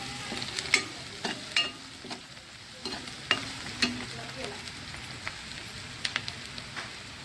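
Onion, curry leaves and coriander frying in a pan, with a steady sizzle broken by sharp, irregular scrapes and clicks of stirring, close and fairly quiet.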